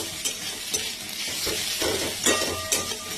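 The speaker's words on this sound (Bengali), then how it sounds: "পোস্ত দিয়ে চিচিঙে আর পেঁয়াজ ভাজা।" Ridge gourd and onions sizzle and fry in a pan while a utensil stirs and scrapes against it several times, close and fairly quiet.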